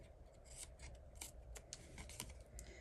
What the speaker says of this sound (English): Just trim that off with your scissors.